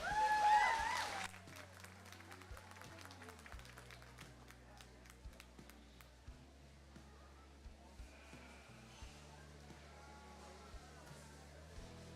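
A short burst of applause rings out at a youth goat livestock show, lasting about a second before dropping into a quieter arena with faint goat bleats and low background murmur.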